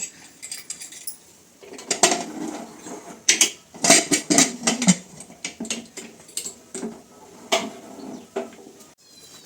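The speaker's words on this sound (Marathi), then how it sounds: "तर कुकरचं झाकण लावून घ्यायचं" Metal clanks and scrapes as a pressure cooker lid is fitted and locked onto a cooker holding a pot of lemon pickle, with a burst of sharp knocks and rattles, then scattered lighter clinks, close and unaccompanied by talk.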